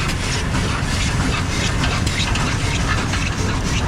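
A 30 horsepower Case steam traction engine runs nearby at a steam show, giving a steady, dense mechanical churning with continuous chuffing and clatter over the full stretch, with no pauses or talk.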